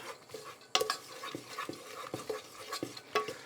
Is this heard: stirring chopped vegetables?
yes